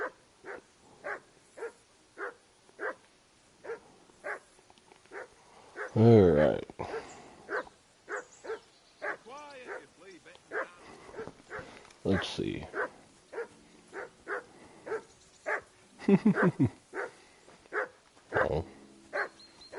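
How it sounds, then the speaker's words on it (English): A dog in the Kingdom Come Deliverance 2 video game barks repeatedly in a steady, evenly spaced rhythm, fairly loud, with a voice and game character dialogue breaking in now and then. "I assume you can hear that damn dog of yours barking."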